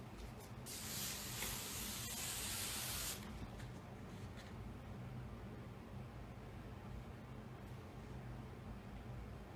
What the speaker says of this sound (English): And then you're gonna hairspray it one last time.